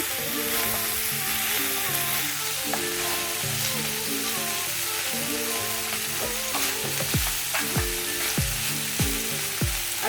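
Meat frying in its own rendered fat with no added oil, cooked for Afra (Dibi): a steady, loud sizzle runs throughout, with repeated scraping and tapping from stirring.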